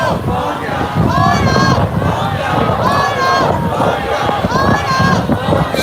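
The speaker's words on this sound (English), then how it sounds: "So windy out right now." Strong wind buffets outdoors during a chaotic street scene near a university, a constant roaring rush with gusty swells, under shouting crowd voices and people talking.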